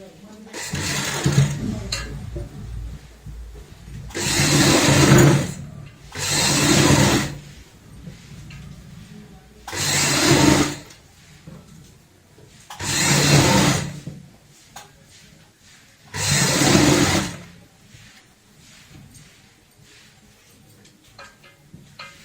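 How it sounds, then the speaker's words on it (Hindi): A sewing machine stitches along the side of a purse bag in five short, fairly loud bursts of whirring, each lasting about a second, separated by quiet pauses. "ऐसे इस साइड की सिलाई कंप्लीट करेंगे।"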